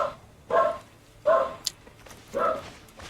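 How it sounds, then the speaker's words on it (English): A dog barks indoors in four spaced, moderately loud woofs, with a slightly muffled, somewhat distant quality and no talking over it. "can you hear my dog? It's actually my dog."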